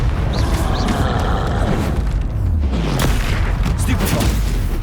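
Spell combat in Hogwarts Legacy, with a Confringo blasting curse exploding among continuous loud booms and magical effects, a dense, busy barrage of overlapping blasts throughout.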